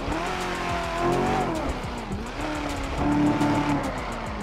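Chevrolet Camaro in GTA 5 revving its engine as the tires squeal and skid, loud and continuous with shifting engine pitch throughout.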